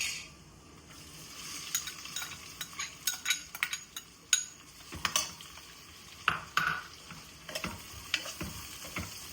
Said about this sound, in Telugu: ఇప్పుడు ఆనియన్స్ వేసుకుందామండి.